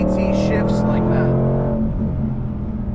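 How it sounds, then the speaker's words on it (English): Engine of a 2020 Ford Mustang Shelby GT500 roars loudly from inside the cabin, its steady drone dipping as the DCT gearbox fires off a quick shift partway through, with a voice talking over it. "Are you guys listening to this in the noise of the car, by the way? Like Mustang ripping off DCT shifts like that."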